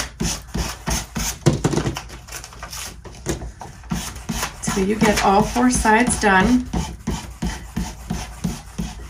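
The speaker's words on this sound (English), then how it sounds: "follow it with your sanding block" Rhythmic rasping of a sanding block rubbing back and forth over wood, repeated strokes close by, with someone talking over it.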